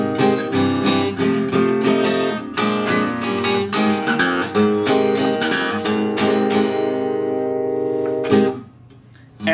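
Fast, bouncy ragtime guitar picking the introduction to a song, steady bright notes over an alternating bass, played close and alone, ending on a held note before a brief drop.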